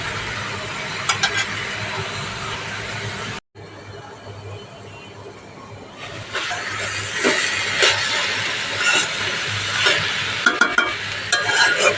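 Cabbage and potato bhaji frying in a pan gives a steady, close hissing sizzle with scattered stirring scrapes. It breaks off briefly partway through, then returns a little louder.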